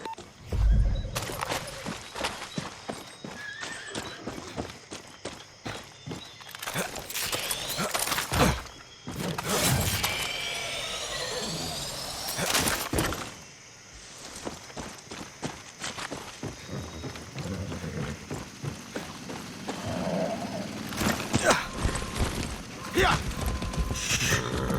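Horse hooves clip-clop in a brisk, steady rhythm close by, with occasional snorts and background clatter throughout, in the video game Far Cry 6.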